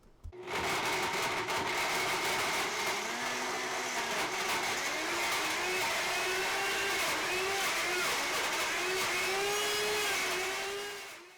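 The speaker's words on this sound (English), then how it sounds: "So I'm going to go ahead and make the frozen dessert. I'm blending on high speed." A Blendtec blender runs on high speed blending a frozen dessert, a loud steady motor whine with pitch wobbling and rising as the thick mixture churns, close and continuous for about ten seconds, no talking.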